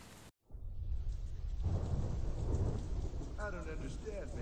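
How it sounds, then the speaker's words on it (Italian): Steady heavy rain with low rolling thunder in the video game Deadlight, starting after a brief silent gap and holding a dense wash of noise for several seconds. "Pioggia."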